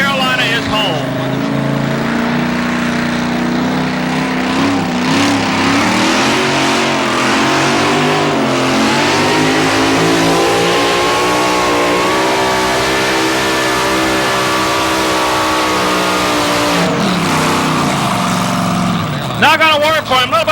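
A Corvette Stingray at a 1987 race event in Raleigh revs hard and loud, its engine note climbing and falling in sustained sweeps that last throughout, with an announcer talking over it.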